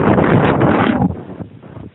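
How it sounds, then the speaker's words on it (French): Strong wind buffets the microphone on coastal cliffs in the Calanques, a loud broadband roar that gusts hard for about a second and then eases to a lighter, uneven rush. "il y avait beaucoup de vent"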